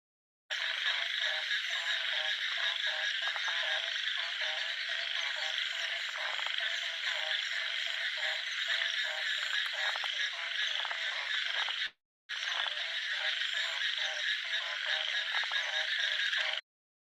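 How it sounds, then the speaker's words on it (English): Euphlyctis cyanophlyctis frog calls in a dense, rapid, continuous croaking chorus, loud and close, broken by one brief gap before resuming; no human voices. "the call I'm going to share here is of Euphlyctis cyanophlyctis"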